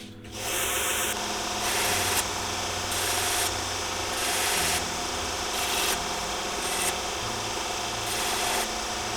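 Belt grinder with a lower-grit belt grinding a knife blade during a restoration, a continuous loud abrasive rasp that pulses in regular strokes as the blade is worked back and forth, with no talking.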